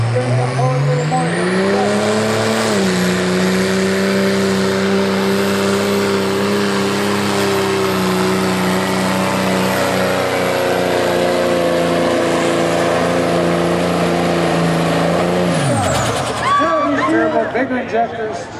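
A diesel pulling truck roars at full throttle at an agricultural fair truck pull, a loud sustained engine drone holding steady for most of the pass before dropping off near the end.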